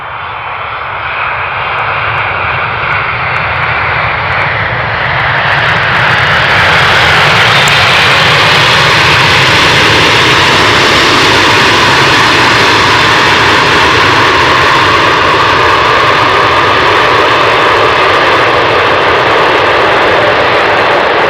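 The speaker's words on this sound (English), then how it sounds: "So it's 777 freighter, 13 years old, delivered in October 2009." A Boeing 777 freighter arriving on runway 18R at Amsterdam Schiphol roars close by, its jet engine noise loud, broad and steady, swelling as it passes overhead, with no voices.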